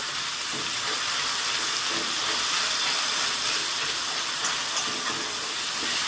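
Tomatoes fry in a pan with a steady, bright, continuous hiss and sizzle, even in loudness throughout, with no voices.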